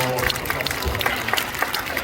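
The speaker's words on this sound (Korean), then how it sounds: "박수 주세요." A church audience applauds during a pastor's inauguration thanksgiving service in a large auditorium. It is a short burst of scattered clapping with voices speaking over it.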